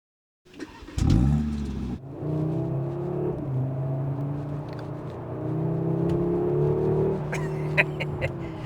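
An Audi RS3 engine starts and revs, then pulls away with a steady rising drone as it accelerates through the gears, close and loud.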